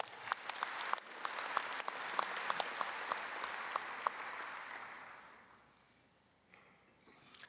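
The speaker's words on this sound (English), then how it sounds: "Would you please give those families a round of applause?" An audience at a high school sports hall of fame induction ceremony applauds the inductees' families, a broad steady wash of clapping with a few sharper claps standing out, then fading away to near quiet.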